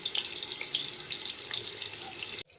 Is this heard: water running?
yes